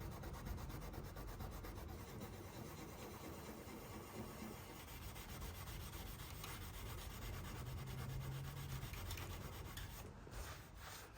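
A worn mark is rubbed steadily off the shellacked frame of an antique mirror, giving continuous close, scratchy friction at an even pace with no pauses and no talking.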